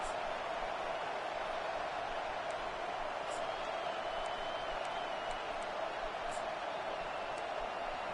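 Steady roar of a stadium crowd at a college football game between Florida State and Georgia, a continuous broad wash of noise with faint whistles or cheers rising now and then, even and unbroken throughout.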